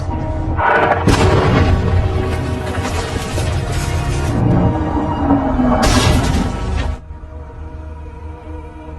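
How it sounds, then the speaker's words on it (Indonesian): Heavy booms of bombs falling around an American tank in a WWII war film scene, a dense rolling roar of explosions and debris that runs loud for several seconds before cutting off. "mereka kembali ke markas sambil dihujani bom dari tentara Jerman"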